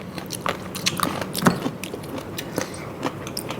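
Crunchy jellyfish dipped in seafood sauce being bitten and chewed up close, a quick run of crisp crackling crunches in an uneven rhythm with no talking.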